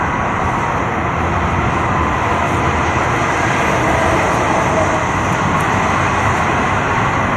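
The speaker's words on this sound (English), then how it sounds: "The roar of the vehicles going by is really intense." Loud, continuous roar of heavy traffic rushing past nearby, a steady dense rumble with no pauses and no talking.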